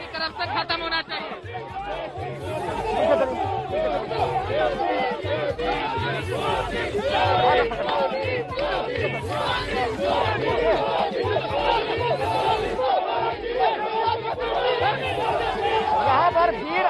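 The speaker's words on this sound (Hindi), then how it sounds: "यहाँ पर भीड़ अनियंत्रित हो रही है।" An unruly crowd at a Bihar election event in Hajipur, loud continuous chatter, shouting and babble close around the listener, with no pause throughout.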